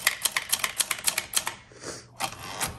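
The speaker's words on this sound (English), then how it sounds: "I am really impressed with how well this typewriter works." Typing on a 1965 Montgomery Ward Brother Signature 440T manual typewriter: a rapid, steady run of crisp key strikes, close and clear, followed by a short pause and a few more heavier clacks, with no talking.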